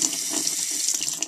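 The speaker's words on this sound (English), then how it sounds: "And just take some good old faucet water." Tap water runs from a kitchen faucet into a container while a crested gecko food mix is prepared, a steady close hiss of flowing water with no talk.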